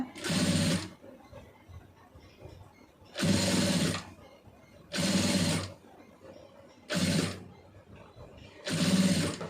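Sewing machine stitching piping onto a garment neckline, running in five short bursts of steady whirring with brief pauses between them, close and fairly loud.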